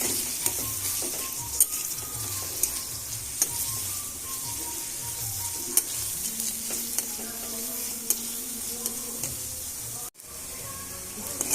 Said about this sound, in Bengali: পেঁয়াজটা একটু হালকা করে এটা একটু ভেজে নেব হালকা করে।